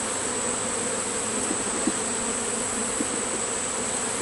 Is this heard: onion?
no